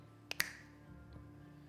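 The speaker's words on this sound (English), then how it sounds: "I'm going to snap my fingers" Two sharp finger snaps in quick succession, close and clear, followed by quiet room tone with no talking.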